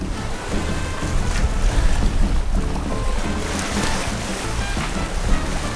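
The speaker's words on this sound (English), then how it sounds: "we have been underway for just a bit over 5 hours now, and it is glorious sailing" A sailboat under the genoa alone on a beam to broad reach in about 18 to 20 knots of wind, with a steady loud rush of water and wind buffeting the microphone, continuous and close.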